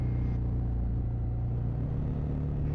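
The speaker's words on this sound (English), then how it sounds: "We put loud pipes on bikes not because they save lives, but because they make the bike sound cool." A Honda CRF250L Rally fitted with an aftermarket MotoX exhaust rumbles steadily under way, a close, continuous low engine drone with a slight change in tone early on.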